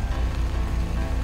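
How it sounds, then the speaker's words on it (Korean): Steady winter rain falling, heard as a dense, even wash of noise with no distinct drops and no speech, holding at a constant level throughout. "겨울비가 내리고 있습니다."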